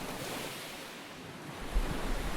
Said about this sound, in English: The rhythmic sound of the waves rolling against the rocky terrain.